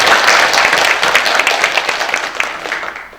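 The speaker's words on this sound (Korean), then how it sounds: "박수 한번 주세요" Audience applause at a Korean talk event, a dense wash of many hands clapping that starts loud and gradually thins and fades over a few seconds, with no voices over it.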